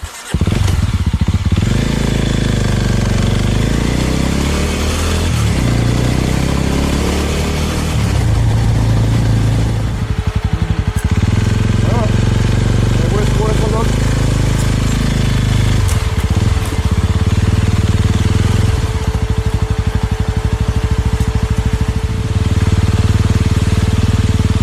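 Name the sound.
motorcycle riding on island roads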